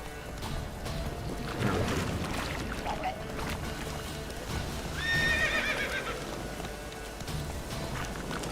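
Roach the horse in a video game, galloping with rhythmic hoof clip-clop and a whinny partway through, over steady game ambience with no talking.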